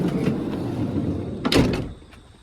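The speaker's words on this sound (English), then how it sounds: "when you open and close the door, you don't have to wait for the step to come in and out" The sliding side door of a 2011 Mercedes Sprinter Roadtrek SS camper van is heard close by: a rolling slide followed by a firm latching clunk with a metallic click, then quiet, with no talking.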